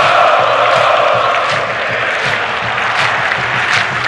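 São Paulo supporters roar continuously at Morumbi stadium during a 2008 Copa Libertadores quarter-final against Fluminense, a dense, steady crowd noise with clapping and cheering swelling throughout.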